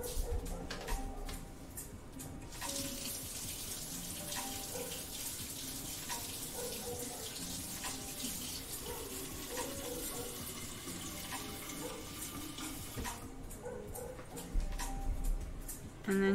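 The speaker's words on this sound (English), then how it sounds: "Cold water." Cold water runs steadily from a kitchen tap in a continuous, moderately loud splashing stream, with a few faint clinks and a brief murmur of talk at the start.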